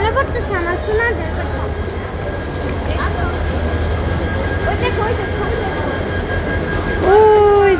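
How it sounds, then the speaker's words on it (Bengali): A passenger train draws near a station in Bangladesh on the way to Cox's Bazar, with steady rumbling rail noise throughout and a squeal near the end. People talk over it, and the sound grows louder as the train comes closer. "ওই যে একটা ট্রেন আসতেছে।"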